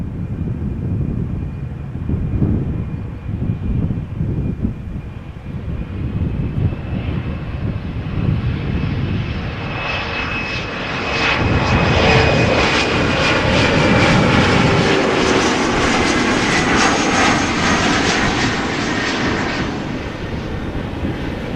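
An airliner approaches the runway at Amsterdam Schiphol Airport after a go-around, its jet engine roar building from a distant whine to a loud, broad rumble as it passes nearby.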